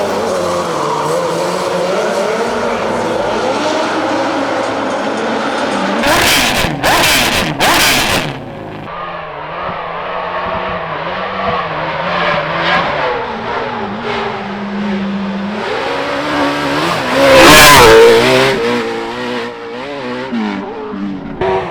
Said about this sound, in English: Here's a quick clip to show you what it sounds like with all the different test exhausts.